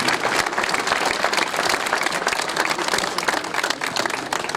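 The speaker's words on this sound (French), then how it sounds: "Nous pouvons à nouveau les applaudir très fort" An audience at a memorial ceremony breaks into strong, sustained applause, a thick wash of many hands clapping with a lively, uneven texture throughout.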